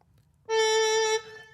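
A Greaten AP500 Pro EWI electronic wind instrument transposed to D plays one sustained, bright synth-reed note. It holds steady for about seven tenths of a second, then trails off with a soft release, and no one talks over it.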